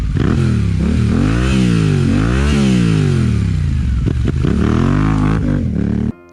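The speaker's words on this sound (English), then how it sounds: "let's get a sound check for the Tenere 700" A Yamaha Ténéré 700 motorcycle engine revs hard close by, pitch sweeping up and down in repeated throttle blips before cutting off abruptly at the end.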